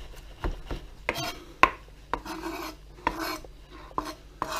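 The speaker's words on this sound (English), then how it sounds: "Just run your knife through it." Knife chopping fresh cilantro on a cutting board for guacamole: a series of close, crisp taps and short scraping rasps at an uneven rhythm, heard alone without talk.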